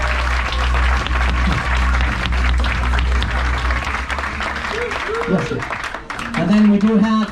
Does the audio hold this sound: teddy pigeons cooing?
no